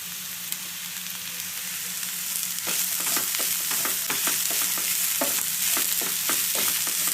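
Onion, carrot and cabbage sautéing in a pan as the vegetable filling for veg momos, a steady close sizzle with repeated sharp scraping stirs of a spatula through the second half, no talking.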